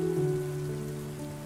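Steady rain falls evenly as a soft, continuous patter beneath a sustained low humming drone, with no breaks or voices throughout.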